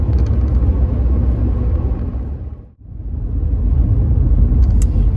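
Cabin of a 1991 Mercedes-Benz 190E 2.0 E driving on the road, a loud, steady low engine and road rumble that dips briefly to near silence midway before building back up.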